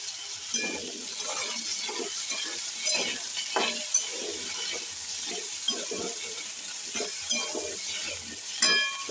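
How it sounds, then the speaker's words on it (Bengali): Potato pieces fry in a pan with a steady close sizzle, broken by repeated scraping and clinking as they are stirred. "এবার আমি একটু আলুটা ভেজে রাখছি।"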